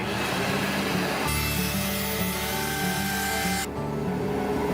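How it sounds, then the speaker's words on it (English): DeWalt 735 thickness planer fitted with a helical cutter head running in a workshop, a loud continuous motor whine and cutter roar that holds steady throughout, with a sudden shift in tone partway through and no talk. "The Dewalt 735 has a safety switch that won't allow you to power it up without putting the top cover on"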